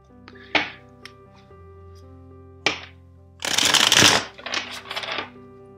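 A tarot card deck riffles in one close, crisp shuffle with a few lighter card flicks and taps around it, over a soft sustained musical drone.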